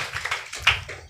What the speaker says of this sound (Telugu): చప్పట్లు కొట్టి ప్రభునామాన్ని ఘనపరచండి.